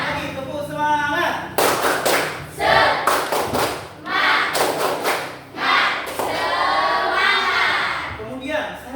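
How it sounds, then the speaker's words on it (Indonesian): A classroom of children does the rhythmic "tepuk semangat" clapping chant, with bursts of sharp, loud claps in quick patterns alternating with voices chanting and talking. "Lagi tepuk semangat."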